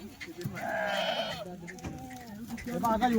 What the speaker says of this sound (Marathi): मेंढ्यांची क्वालिटी बघा